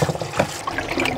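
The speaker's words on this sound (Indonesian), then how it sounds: "Ini kita bilas dengan air sampai bersih." Cucumber rinsed under running water in a home kitchen, a close, steady trickle and splash lasting just over a second.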